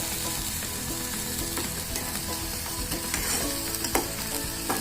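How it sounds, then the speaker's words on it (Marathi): Tomato paste sautéed in fried onion paste with oil, for anda bhurji. A steady, close sizzle runs throughout with scraping stirs and occasional crackles, quiet overall and with no talk. "आणि हे चांगले परतून घेऊया"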